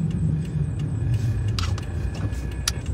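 Steady car-interior rumble of a vehicle creeping behind a stop-and-go school bus, with a low engine drone, faint road noise and a few brief hisses or clicks.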